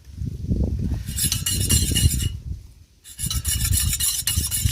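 Grape juice and cornflour mixture being stirred in a pan, a continuous scraping rub with a louder rasping stretch, a short pause, then more scraping, close and alone.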